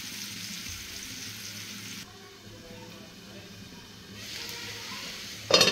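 Sliced onion frying in oil until light brown, a soft continuous sizzle and hiss throughout that swells and fades slightly, ending with a brief sharp clatter.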